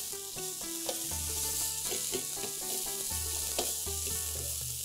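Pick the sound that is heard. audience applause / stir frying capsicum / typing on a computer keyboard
stir frying capsicum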